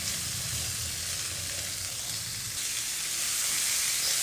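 Chickpeas frying and sizzling in a pan, a dense continuous hiss with faint stirring scrapes underneath, steady and close, with no voices.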